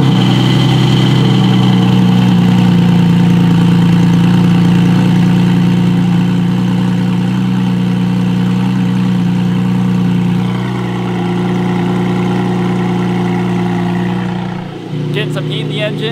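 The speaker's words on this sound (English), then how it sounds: "Let's get a cold start." A Porsche GT4 engine fires on a cold start and settles into a steady, loud, close idle with a deep even drone that dips slightly near the end; no talk is heard over it.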